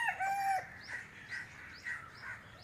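A jungle fowl crowing at Patna Zoo, one drawn-out crow at the start heard faintly at a distance, followed by softer clucks and chirps over quiet outdoor background.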